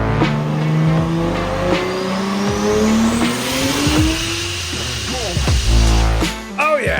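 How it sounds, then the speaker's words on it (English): A car with a 2JZ engine revs hard and rises in pitch, then drops and climbs again through gear changes, loud and close, with a brief tire squeal near the end. "That car sound was sent in by Lucas. That is his, sounds like a 2JZ, right?"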